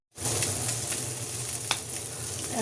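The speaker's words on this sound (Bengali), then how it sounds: "আমি আস্তে আস্তে নাড়বো" Kakila fish being slowly stirred while frying in a pan, a close continuous sizzle that starts abruptly, with soft scraping ticks from the stirring.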